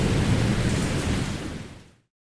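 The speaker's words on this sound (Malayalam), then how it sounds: "ശക്തമായ കാറ്റിനൊപ്പം മഴ പെയ്തു." A heavy rainstorm with strong wind and thunder, a dense, loud roar of downpour and low rumble that holds steady and then fades out to silence, with no voices.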